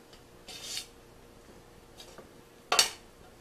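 Ingredients for Korean rice cake energy bars are mixed and broken up in a bowl, giving a few separate scraping, rubbing strokes with one sharper clack of utensil against the bowl, close and fairly quiet in a still room.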